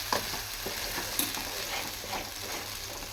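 Masala frying in a pan for fish curry, a soft steady sizzle with a few clinks and scrapes of a spoon stirring, fairly quiet and close, no talking.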